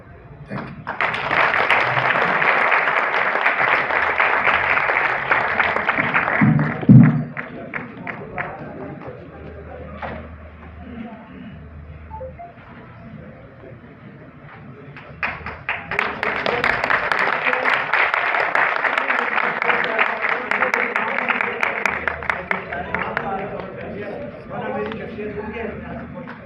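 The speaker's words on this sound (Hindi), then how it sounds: "भरपूर तालियां होनी चाहिए जी, भरपूर तालियां होनी चाहिए" An audience at a tribute event for a ghazal singer breaks into applause in two long waves, a dense, sustained clapping that fades to a quieter stretch with a voice before swelling strongly again.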